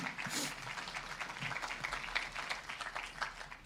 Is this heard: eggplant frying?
no